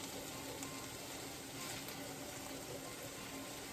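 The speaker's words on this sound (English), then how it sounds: "Just turn all of them over so that they finish cooking." Turkey meatballs frying in a pan for albondiga soup, a faint, steady sizzle with soft crackling that continues evenly throughout, no voices.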